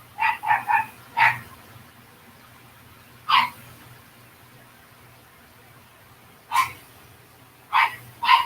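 A dog barks in short bursts, a quick cluster of three or four barks, then scattered single barks with pauses, over a faint low hum.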